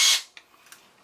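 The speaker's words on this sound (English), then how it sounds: "We're going to hold the lock nut and remove the screw in the center." A short burst of a power tool whirring as a screw is backed out of a pulse air flapper assembly, followed by a few faint metallic clicks and taps nearby.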